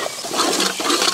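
Water splashes and gurgles briefly as it is poured into a pot of mutton spare parts curry spiced with cumin powder, a short close burst of sloshing.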